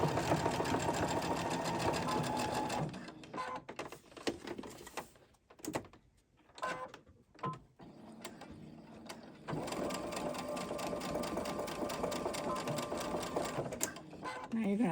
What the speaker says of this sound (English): And now we're going to sew this one down.